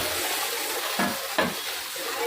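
Kadai chicken fries in a wok over a flame, a loud continuous roaring sizzle with two distinct scraping stirs of a ladle.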